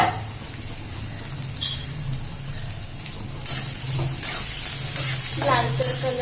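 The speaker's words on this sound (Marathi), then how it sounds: "जरा परतून घ्यायचं कांदा नरम पडला पाहिजे परतून घ्यायचं" Chopped onions and tomatoes with a little coriander sizzling and being stirred in hot oil in a pan, a constant crackle broken by scraping stirs and brief louder spatters, with no talk.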